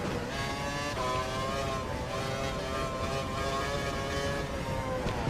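F1 car engine in the F1 2012 racing game at Bahrain, a steady high-pitched engine whine holding at speed with slight pitch shifts, loud and continuous with no talk.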